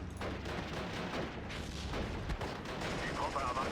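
Artillery and mortar fire rumble through a video game battle, with dense, continuous booms and crackling gunfire filling the mix while a voice talks over it.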